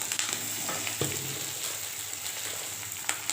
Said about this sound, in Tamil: இப்போ இந்த நச்சு வச்ச இஞ்சி பூண்டு வெங்காயம் மிளகாய் வரமிளகாய் போட்டு வதக்கிக்கலாம்